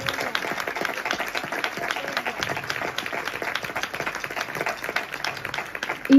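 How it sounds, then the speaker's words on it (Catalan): A concert audience in Bellvei claps for the director of the Bellvei Band, a steady, lively round of many hands with individual claps standing out, continuing throughout with no talk. "m'agradaria un fort aplaudiment pel director Víctor Verge"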